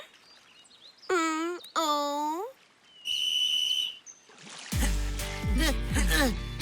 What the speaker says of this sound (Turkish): Düdük çaldı ve yarış başladı